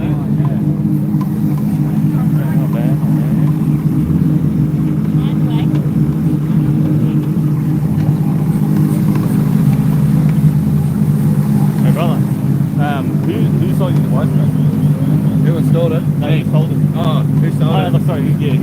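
A low-powered car drifts at Oakburn Park motorsports complex in NSW, Australia. Its engine gives a steady, loud, droning note throughout, with some wind rush.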